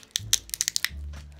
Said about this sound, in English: we have to snap them so they activate